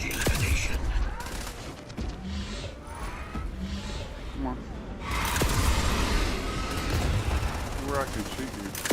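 Heavy automatic gunfire rattles continuously in a sci-fi video game firefight, loud and close, with surging bursts and booming impacts layered over faint voices.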